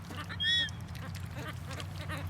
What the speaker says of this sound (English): So these seagulls are very intelligent.